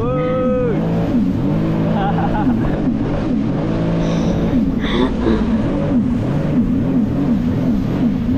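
A car revving and driving on a crowded beach, its engine rising and falling over crowd noise and wind, with people talking and exclaiming close by.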